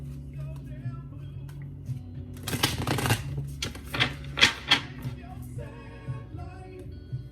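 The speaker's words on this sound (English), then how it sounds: "Put this card back in. We're going to do a shuffle." A deck of tarot cards is shuffled by hand in a quiet room, giving soft rubbing swishes and a cluster of sharper riffling clicks in the middle, fairly faint and close.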